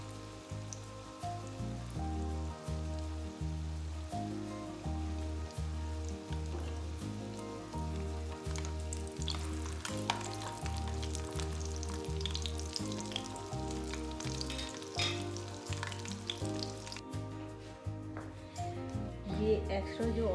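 Kebabs frying in hot oil give a steady close sizzle that runs the whole time, with a dense crackle and an even loudness throughout.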